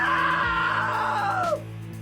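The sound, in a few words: scream in video game What Remains of Edith Finch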